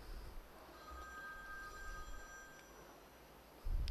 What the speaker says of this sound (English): Can we get that phone?